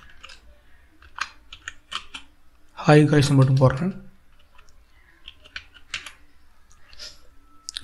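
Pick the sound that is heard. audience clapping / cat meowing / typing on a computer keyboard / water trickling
typing on a computer keyboard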